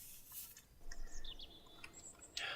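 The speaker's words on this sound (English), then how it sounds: "Those birds are so loud." Birds in the video game Kerbal Space Program chirp in short, scattered high tweets over a soft outdoor ambience, fairly faint and intermittent.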